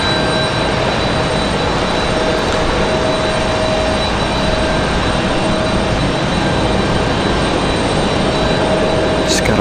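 A Boeing 777 jet at Raleigh Durham airport rumbles loudly and steadily at a distance, a continuous broadband roar with a faint high whine; someone speaks briefly over it.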